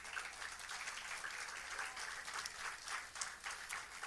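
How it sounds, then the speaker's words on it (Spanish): Applause from a church congregation at a Spanish-language service, a faint, steady wash of clapping lasting several seconds with no speech over it. "Dale un aplauso."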